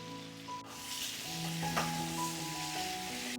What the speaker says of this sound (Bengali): সিদ্ধ করে রাখা আলু দিয়ে দেব, দিয়ে আবারও ভালোভাবে কষিয়ে নেব